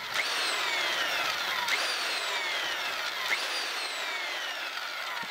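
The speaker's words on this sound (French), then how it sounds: "Voilà, on fait nos 4 trous." A power drill bores holes in wood for the ropes of a homemade wooden swing: three close, whining passes, each falling in pitch as the bit slows into the wood, one after another.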